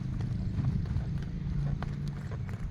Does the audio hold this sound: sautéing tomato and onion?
no